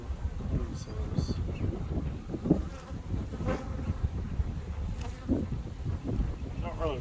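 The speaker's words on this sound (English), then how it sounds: "the camera operator that's getting nudged in the head by bees" Honeybees swarm and buzz close around an open hive in Salem, Indiana, a dense continuous drone with insects passing near the microphone, while people talk intermittently over it.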